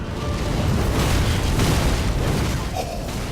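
Sunlight Spear lightning spell in Dark Souls 3 striking during a boss fight, a loud, heavy rumbling blast with deep booming crackle sustained for a few seconds and then easing off.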